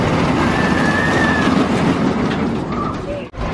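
A roller coaster train at a Six Flags America amusement park rolls along its tracks with a steady rumbling roar and faint wheel squeals, loud and close, with a brief dip near the end.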